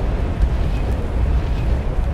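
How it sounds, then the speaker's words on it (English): A house burning in the video game Lucius: a steady, loud low roar of fire with crackling rumble, continuous throughout with no talking. "The house is on fire."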